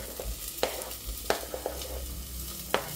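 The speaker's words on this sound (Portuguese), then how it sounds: "E agora vamos passar todas essas verduras aqui para a panela." Chopped vegetables go into a pan with beef over low heat, giving a soft steady sizzle with a few sharp clinks and scrapes of a utensil against the pan, no talking.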